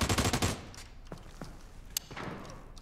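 A rapid burst of gunfire from PUBG opens loud and close, then gives way to a few scattered, fainter single shots and thuds.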